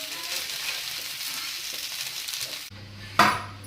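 Plantain pieces fry in hot oil with a dense, steady close sizzle, then the hiss cuts to a quieter hum and a single sharp clatter sounds as a piece is turned.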